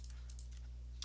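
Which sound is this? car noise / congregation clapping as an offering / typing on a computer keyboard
typing on a computer keyboard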